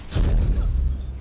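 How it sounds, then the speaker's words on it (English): In Skyrim, an arcane arrow breaks an enemy's ward spell shield, giving a single muffled, booming magical impact with a short rumbling tail, close and fairly loud. "That is the sound of my arcane arrow breaking her shield."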